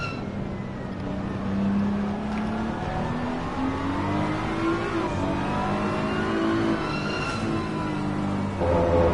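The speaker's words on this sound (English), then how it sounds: "You can hear the grinding noise." Overheated tyres grinding with a sandpaper-like rasp in the Assetto Corsa Competizione racing game at Brands Hatch, under a continuous loud race car engine that rises and falls through gear changes, no talking.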